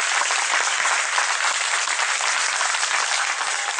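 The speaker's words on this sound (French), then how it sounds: "Je vous salue, je voudrais qu'on s'acclame." Dense, steady applause from a crowd at a political party meeting in Marcory, Abidjan, holds at a loud, even level throughout with no break.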